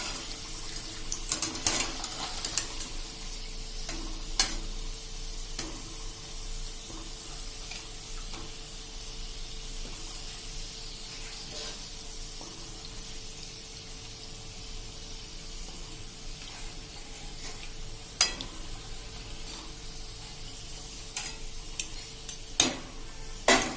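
Peanuts for sing bhujia frying in oil over a medium flame, a soft continuous sizzle with scattered small pops and occasional stirring clinks, no talking.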